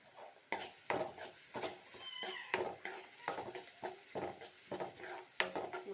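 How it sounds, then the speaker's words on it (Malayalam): Fish roe thoran with green chilli and curry leaves stirred in a pan: quiet, regular scraping strokes of a spoon against the pan over a faint sizzle, recurring roughly twice a second. "ഇളക്കി കൊടുക്കാം"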